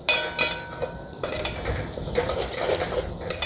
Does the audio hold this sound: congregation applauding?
no